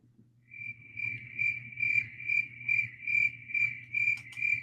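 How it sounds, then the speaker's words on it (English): Crickets chirp as a sound effect, a clear, steady train of high trills pulsing in regular rhythm about twice a second, close and alone over a low background hum. "you get nothing but crickets."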